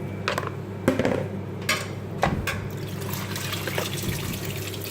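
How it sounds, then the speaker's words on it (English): Cold water draining off freshly cooked pho noodles for Vietnamese chicken noodle soup, a soft steady trickle and splash with a few brief louder pours, close by with no talk. "let it drain out the cold water."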